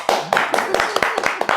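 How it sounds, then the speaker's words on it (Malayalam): Close, sharp hand claps, about eight in quick, fairly even rhythm, over a background of voices. "കയ്യടി അല്ലേ അല്ലേ."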